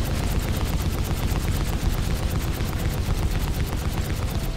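A Super Ballista turret in a video game fires a fast, steady, rapid-fire stream of shots that stays loud and dense throughout, with no voices.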